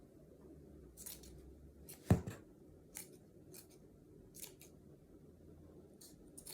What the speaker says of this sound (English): you could trim it to look a little more